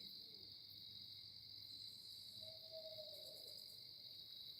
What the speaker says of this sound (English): I hear that owl holler.